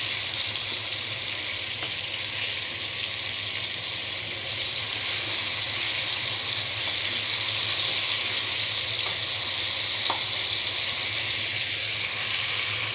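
Tomatoes fry in a pan with a steady, loud, bright sizzle that holds evenly throughout, broken only by a few faint clicks and no voices.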